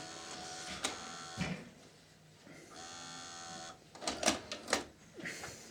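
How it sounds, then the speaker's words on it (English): A JVC HR-D750EK VCR ejects a tape: mechanical whirring and clicking from the loading mechanism, with a few sharper clunks near the end, heard up close with no talking. "So let me eject the tape"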